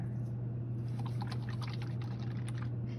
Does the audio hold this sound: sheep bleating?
no